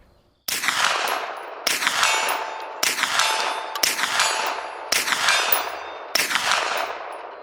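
Six sharp gunshots ring out at roughly one-second intervals, each loud and close with a long ringing decay, from test firing of a weapon fitted with an Olight Odin Mini compact weapon-mounted light.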